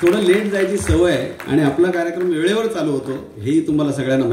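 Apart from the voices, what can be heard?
No distinct noise like a dog, phone or traffic.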